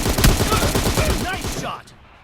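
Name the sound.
gunshot in the video game PUBG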